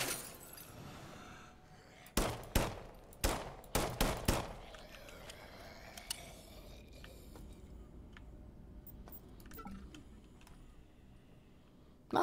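Several sharp laser gun blasts fire in a quick cluster in the video game System Shock, loud and close, then a quieter stretch of faint game ambience follows.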